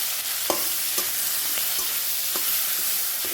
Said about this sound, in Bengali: এই মাছের মাথাকে ভেজে নেব